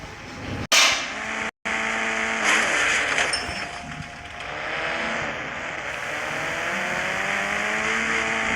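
A car engine drones steadily in the Indian Bike Driving 3D video game, a loud even hum with rising and falling pitch sweeps as it accelerates, broken by a couple of abrupt cuts near the start.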